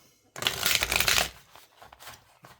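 Oracle cards being shuffled close up during a tarot reading: one dense, loud riffle burst lasting about a second, followed by a few softer card taps and flicks.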